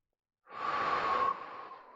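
One long, close, breathy inhale during a pelvic mobility exercise for golfers starts abruptly after silence, swells, then tapers off softly with no speech.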